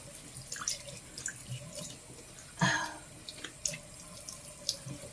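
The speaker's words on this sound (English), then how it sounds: "I'm just rinsing it off" Water from a bathroom sink tap splashes as a face is rinsed, with soft running flow, scattered drips and a sharper splash midway, heard close and fairly quiet.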